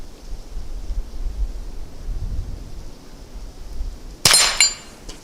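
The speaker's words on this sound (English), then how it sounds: "So we'll fire the regular 22 Quiet first." A single crack of a Henry Frontier .22 rifle firing a CCI 22 Quiet round outdoors in cold, windy weather: soft wind rumble, then one sharp, close report with a brief ringing tail.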